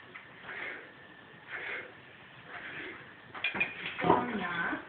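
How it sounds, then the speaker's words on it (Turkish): A knife cuts peeled potatoes into cubes on a board, with faint scraping and then a short cluster of sharper taps near the end, heard close and partly under a quiet voice. "Sonradan da böyle şu an yaptığım gibi küp yaptık"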